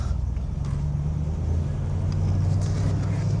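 A restored 1969 Oldsmobile 442 W-30, rated around 360 horsepower, drives along with a steady, low engine rumble that holds a constant drone throughout.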